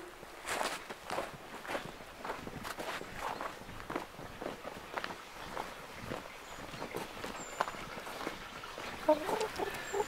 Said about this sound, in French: C'est une poule qui était dans un élevage en batterie,